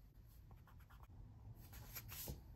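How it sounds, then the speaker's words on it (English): A pen scratches across the paper of a planner as an appointment is written in, a soft, close, quiet scribbling with short strokes and pauses, no voices. "Let me just write this appointment in pen."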